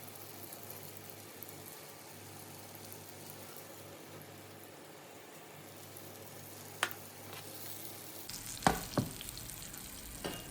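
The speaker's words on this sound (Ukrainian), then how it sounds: "Рибка смажиться дуже швидко" Tilapia and pangasius fish frying in a pan: a steady low sizzle throughout, with a few sharp utensil taps and clinks near the end as the pan is handled.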